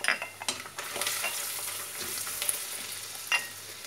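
Spinach soup is stirred in a pot with black pepper and salt, giving a steady sizzle and scraping swirl with a few clinks of the utensil against the pot, close and continuous with no talk.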